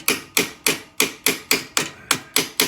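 Nine evenly spaced metallic hammer taps on a thin shifter arm bolt of a 1990 Harley-Davidson Electra Glide Evo, close and sharp, each strike decaying quickly with no talking.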